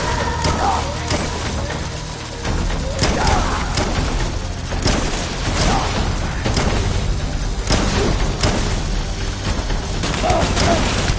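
Dense, continuous gunfire and booming impacts from a Death Stranding battle, loud and sustained across the whole stretch, with shouted voices heard over the shooting.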